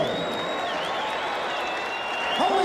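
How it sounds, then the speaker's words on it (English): A boxing arena crowd applauds steadily during a Holyfield–Qawi cruiserweight title event, dense continuous clapping with a sustained whistle-like tone over it, and a voice briefly rising near the end. "have a nice round of applause for Dwight Muhammad QAWI"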